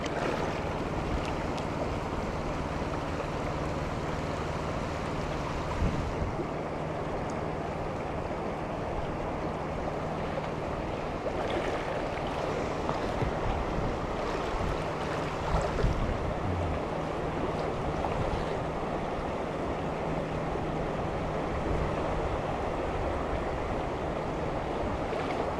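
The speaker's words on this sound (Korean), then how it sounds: "바람도 조금 불어주고" Wind blowing beside a river during sweetfish fishing in Yangyang, a steady, broad rushing wash mixed with flowing water, continuous and fairly even with small gusty swells, and no talking.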